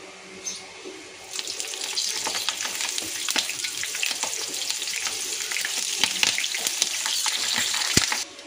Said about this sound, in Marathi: म्हणून आता मी ही हिरवी मिरची त्याच्यासोबत तळणार आहे